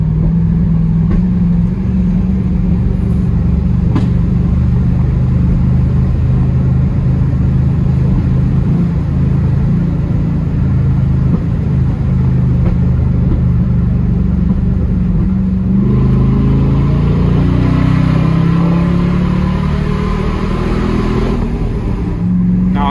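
Loud, deep rumble from a Toyota Tundra pickup's exhaust with the cutouts open, droning steadily at close range for over twenty seconds as the engine note swells and eases, with faint talk beneath it.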